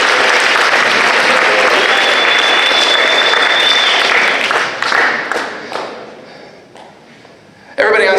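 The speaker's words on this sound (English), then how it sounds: "Give him a round of applause" Loud, dense applause from a school audience after a post-prom stage show, steady for about five seconds, then thinning out and fading.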